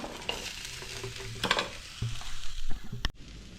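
Green cashew nuts and shallots are sautéed in a pan, a close, busy sizzle under repeated scraping stirs with a few sharp utensil knocks, ending with a hard clack and a sudden drop in sound.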